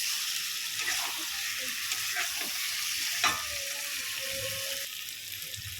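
Potatoes sauté in a pan for an egg omelette curry, with a continuous close sizzle and fry, occasional stirring knocks, and a brief faint ringing tone near the end, without speech.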